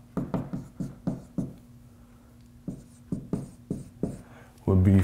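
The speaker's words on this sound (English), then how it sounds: "I'll go ahead and erase this now," Writing is erased from a classroom board in a series of quick, close rubbing strokes that come in two bursts with a pause between, followed by a short thump at the end.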